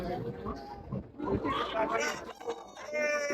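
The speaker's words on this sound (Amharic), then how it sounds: "ይኸውላችሁ ዶሮዎች እዚህ ጋር አሉ" Chickens cluck and squawk close by amid the busy Shola market in Addis Ababa, Ethiopia, during the Christmas season, with people talking in the background throughout.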